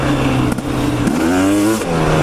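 Car engine revving hard while the driver tries to roost the car, loud and close, with repeated throttle blips and climbing pitch, a brief dip and then a sustained rising rev before dropping back.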